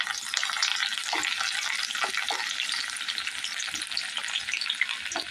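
Half an onion sizzles steadily in hot oil in a pan for an eggplant and potato curry, a dense, even frying hiss with a few soft stir scrapes, close and continuous with no talk.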